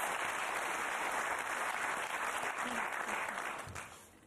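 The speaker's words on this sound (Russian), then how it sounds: "Аплодисменты." A game show studio audience applauding steadily, dense clapping that holds for several seconds and then fades out near the end.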